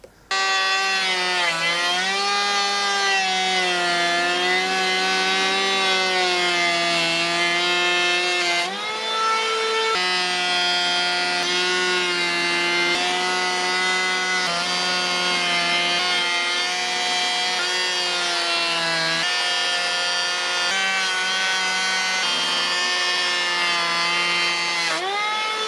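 A Milwaukee M12 cordless planer shaves along a wooden board in one continuous pass, its high, steady motor whine loud and close, with a brief dip around the middle before the cutting drone resumes.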